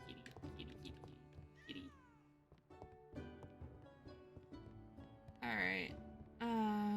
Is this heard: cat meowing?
yes